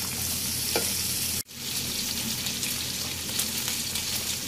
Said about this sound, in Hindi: भिंडी जैसा कि आप देख रहे हैं हमारी फ्राई हो रही है